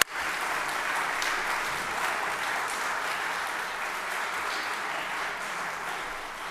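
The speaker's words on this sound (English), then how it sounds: "give them a round of applause for the support they provide" A veterans' ceremony audience gives a sustained round of applause for a family, dense steady clapping from many hands filling the room at an even level throughout.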